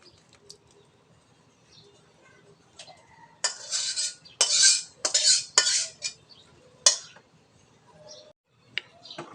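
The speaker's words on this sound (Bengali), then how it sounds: "আমি দেখেন এখন নামায় রাখতেছি" A pot of cooked meat is lifted off the stove in a home kitchen: a cluster of sharp metallic clanks and scrapes mid-clip, with a few lighter taps before and after in an otherwise quiet room.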